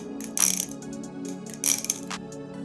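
A Zippy balisong trainer with a plastic tang pin is flipped close by, giving scattered light plastic clacks and clicks in two quick bursts with small taps in between, with no voices.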